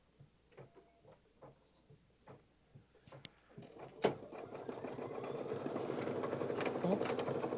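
A computerized embroidery sewing machine stitches a sweatshirt. A few quiet, evenly spaced ticks give way to a rising, steady mechanical whir of rapid stitching that grows louder and more continuous toward the end.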